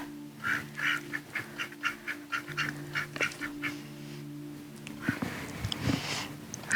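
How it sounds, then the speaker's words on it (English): Two male mallard ducks give a run of rasping quacks and honks, about a dozen short calls in a rough rhythm, fairly close, followed by scuffling noise and a steady background hum. "These are my 2 male mallards, and they think they're inside ducks."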